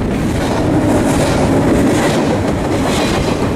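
Outbound double-stack container freight train passing close by at Fullerton, a loud continuous rumble with clattering wheels on the rails.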